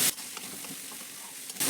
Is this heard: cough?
no